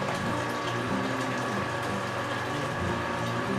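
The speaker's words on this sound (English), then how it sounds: "I'm going to pump it over to my mash tun here" A pump moves hot water into a mash tun for home brewing an ale, making a steady, close, continuous whir with rushing and splashing liquid and no talk.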